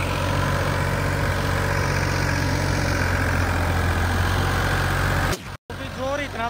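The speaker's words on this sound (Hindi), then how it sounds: "इस तरीके का ट्रैक्टर चल रहा है, इतना जोर लग रहा है क्योंकि माटी ज्यादा है" Modified tractor engine labouring hard in heavy soil, a loud steady low drone throughout that cuts out abruptly near the end before a short burst of other sound.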